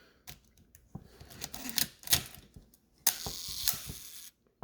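The slow shutter mechanism of a Nikon F2 camera clicks and whirs in a series of close, small mechanical snaps and ratcheting buzzes, with one longer gear-like run near the end.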